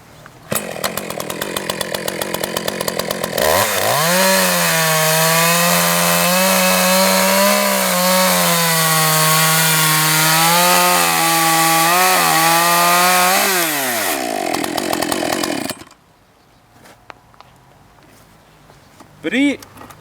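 A chainsaw revs up and cuts through wood for about ten seconds, its loud buzzing engine note holding steady with slight pitch wavers under load, then winding down before a few quieter knocks and a brief rev at the end.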